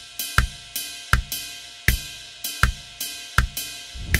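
A drum pattern in the style of a rock drummer plays alone, with kick drum quarter notes under groups of four strokes from one hand, a steady, even rhythm of clear, close hits.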